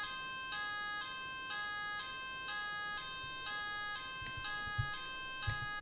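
A repeating electronic two-tone police siren from an M5Stack device, high and steady, alternating evenly about once a second, loud and continuous with a few low thumps near the end.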